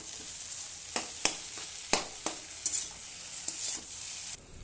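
A spatula stirs vegetables in a hot pan after a sprinkle of sugar, with a soft ongoing sizzle and repeated sharp scraping strokes, close and fairly quiet, ending abruptly.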